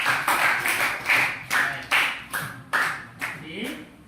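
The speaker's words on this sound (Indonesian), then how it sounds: "tepuk tangan" A classroom of students clapping in short, repeated bursts, about eight or nine sharp rounds in quick succession, fairly close and loud.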